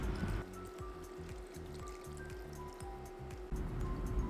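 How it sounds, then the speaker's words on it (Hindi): A cup of water is poured into chicken curry cooking in a pan, giving a gentle bubbling, gurgling splash with a rhythmic pulsing pattern that fades after a few seconds into a softer sizzle. "अब मैं इसमें डालूँगी 1 कप पानी"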